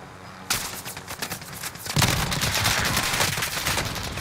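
Dense, loud gunfire from Call of Duty: Modern Warfare multiplayer combat, rapid automatic bursts kicking in abruptly and building into a sustained, heavier volley.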